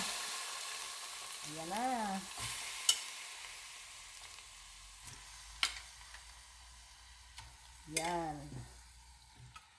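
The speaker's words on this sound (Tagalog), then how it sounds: "Lagay natin yung langka guys, ha." Jackfruit tossed into a pan for a coconut-milk veggie dish gives a faint, steady sizzle with a few sharp clicks of utensils, while someone speaks briefly and another tonal voice comes through in short bursts.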